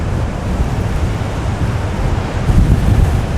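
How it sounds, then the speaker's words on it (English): Large ocean waves rage at Haulover Inlet, a loud continuous roar of surf mixed with heavy wind buffeting the microphone, swelling louder toward the end. "look at those waves, bro."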